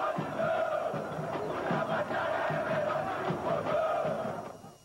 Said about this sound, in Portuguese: A torcida do Botafogo brinca com a desgraça.